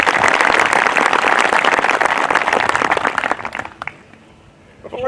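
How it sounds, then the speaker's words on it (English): Loud, dense applause from a graduation commencement audience, sustained clapping that rolls on for several seconds before quickly thinning out and fading to near silence. "Have a round of applause."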